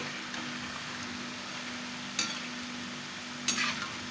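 Namak para dough pieces fry in oil over a low flame, a steady soft sizzle running throughout with two brief louder bursts of stirring or turning partway through.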